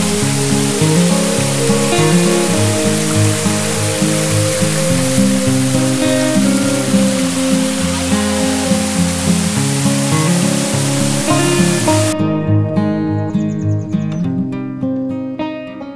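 Steady broad rush of the Piciorul Calului waterfall, a mountain cascade, lies under louder sustained instrumental music and cuts off abruptly near the end, leaving only the music.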